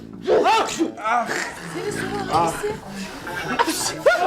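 A child sneezes several times in a classroom, sharp bursts set among lively chatter and laughter from other children.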